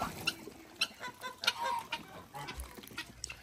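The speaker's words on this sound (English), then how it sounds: "Random guinea fowl excitement." Guinea fowl call excitedly on a farm animal sanctuary, a flurry of sharp, repeated squawks and clucks at moderate distance, irregular and overlapping, fairly faint.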